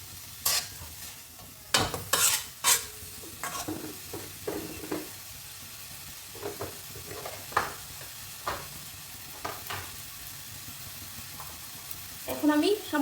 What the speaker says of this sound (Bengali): একটু সময় নিয়ে ভাজতে হবে, না হলে চিকেনটা কিন্তু ভালোভাবে সিদ্ধ হবে না